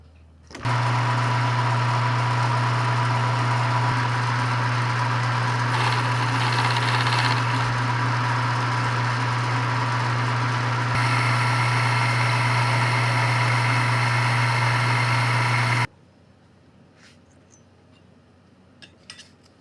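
A metal lathe turns the end of a part, giving a steady loud mechanical hum with a strong low drone and bright cutting noise for about fifteen seconds, then stopping abruptly into quiet room sound with faint clinks.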